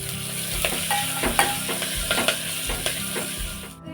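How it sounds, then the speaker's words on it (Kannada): Cumin, garlic, chilli, curry leaves and onion fry in a pan with a close, steady sizzle, broken by regular soft scraping strokes of a stirring spoon. "ಜೀರಿಗೆ, ಬೆಳ್ಳುಳ್ಳಿ, ಮೆಣಸಿನ್ಕಾಯಿ, ಒಂದು ಕರಿಬೇವಿನ ಸೊಪ್ಪು, ಈರುಳ್ಳಿ ಎಲ್ಲ ಚೆನ್ನಾಗಿ ಫ್ರೈ ಮಾಡ್ಕೊಂಡು"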